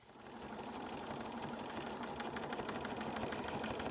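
A sewing machine stitches quilting along the outlines of motifs printed in the fabric, a rapid, even mechanical chatter that holds steady and close throughout without pause.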